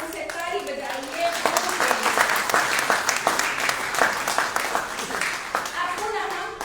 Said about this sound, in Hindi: आप लोग खुले मन से ताली बजाइए।